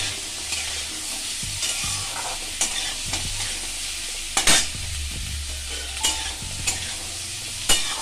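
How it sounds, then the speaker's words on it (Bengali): Chopped onion, ginger and whole garlic cloves fry in a pan under a constant bright sizzle, punctuated by repeated spatula stirs and scrapes at irregular intervals. "আর দিয়ে দিচ্ছি আদা আর রসুন, গোটা রসুন আর আদা। আমি এগুলো সব দিয়ে একটু ভেজে নেব।"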